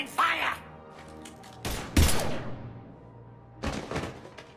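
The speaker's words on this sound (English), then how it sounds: "Now open fire!" Gunfire in the video game Mass Effect 3, a few sharp, separate loud bursts spaced apart, with quieter game ambience and faint voice sounds between them.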